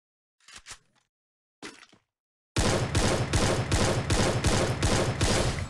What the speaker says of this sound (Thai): ได้ยินเสียงปืนอีกแล้วข้างหน้า